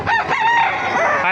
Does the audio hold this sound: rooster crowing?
yes